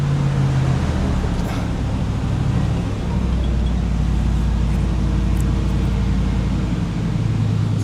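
A Chevrolet Blazer runs at high speed, around 140 to 160 km/h, on a road. A steady, loud low engine and road rumble holds throughout, with wind noise over it and no talk.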